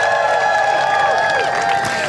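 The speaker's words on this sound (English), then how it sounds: "Give it a round of applause for Dr. Davidson." An outdoor crowd at a march for health and science claps and cheers loudly as a physician leader is welcomed, with whoops and voices rising over the clapping.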